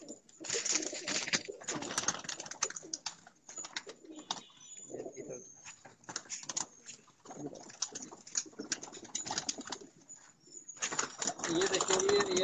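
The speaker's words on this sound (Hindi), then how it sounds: "ये देखिए ये अदनान शिराज साहब के अदनान भाई कौन सा कबूतर है?" Pigeons of the red Chinese (lal cheena) variety in a fancier's loft, cooing and flapping their wings in short bursts throughout, close by, with people talking over them.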